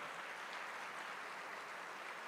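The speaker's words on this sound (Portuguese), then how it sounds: "Então vamos aplaudir a este Deus, irmãos." A church congregation applauds, a faint, steady wash of many hands clapping heard from a distance.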